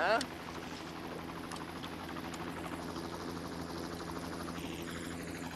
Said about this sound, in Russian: Вертолеты!